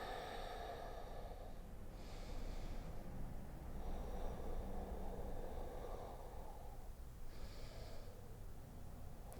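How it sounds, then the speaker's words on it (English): Deep Ujjayi breathing during a hip-opening yoga flow: two slow, airy breaths, each about a second long, rise over a steady low hum. The breaths are close and soft, with no talking. "deep Ujjayi breaths here"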